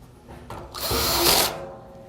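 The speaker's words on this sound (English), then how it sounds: "Now we're going to install the left side, which is the round one, with our hex head screws." A power drill drives hex head screws into a metal battery enclosure side panel, with a brief loud whirring burst in the middle after a short lead-in, close and alone.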